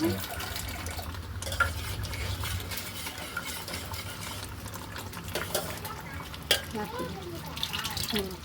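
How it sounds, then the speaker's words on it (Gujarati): Chole being stirred in a pot after water is added, a steady scraping and sloshing with occasional sharp spoon knocks against the metal over a low hum; faint voices come and go in the background. "હવે આપણે હલાવી દઈએ"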